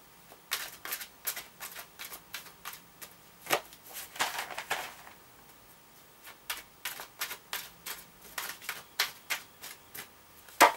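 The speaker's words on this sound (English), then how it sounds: "I'm just going to quickly shuffle these cards now" A tarot deck riffled and shuffled in quick bursts, crisp papery flutters and snaps repeating close by, with brief pauses between runs.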